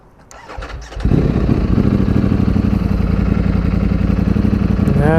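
A new Ducati Streetfighter V4S motorcycle cranks and fires up after about a second, then settles into a loud, close, steady rumbling idle with a slight rev at the end.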